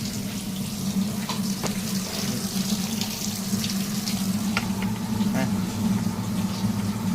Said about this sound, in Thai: เห็นไหม น้ำมันไหลออกตลอดเวลาครับ